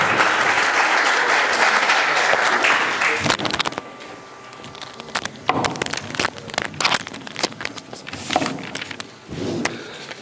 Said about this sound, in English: A round of applause for Deputy Director.